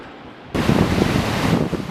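Ocean waves at sea surge in abruptly after a quiet half-second, then roll on as a loud, continuous rush of surf mixed with gusty wind buffeting the microphone.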